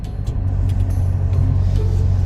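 A car in a video game drives along with a steady, loud engine rumble and road noise, continuous throughout with small ticks on top and no talking.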